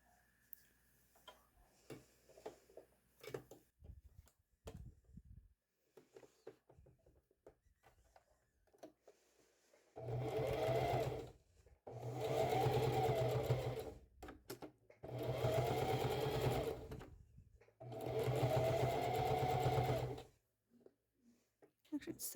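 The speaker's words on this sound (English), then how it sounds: "I'm just turning it over and following the curve just like this. And I'm going to stitch down." Sewing machine stitching down the curved edge of a pajama top, four steady bursts of fast motor-driven stitching, each a few seconds long with short pauses between, after quiet handling and faint ticks, close and with no talk.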